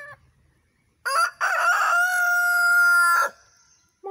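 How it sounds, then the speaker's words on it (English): A rooster lets out one loud, close crow, rising then held and trailing off, preceded and followed by brief quieter clucks. "These chickens have been squawking up a storm."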